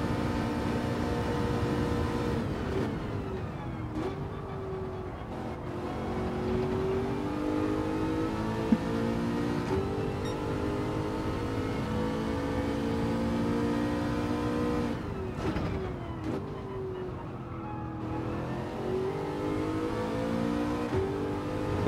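A race car engine in Gran Turismo 7 screams at high revs for a long stretch, held near the limiter with rising and falling pitch sweeps as gears shift, loud and close, with no talking.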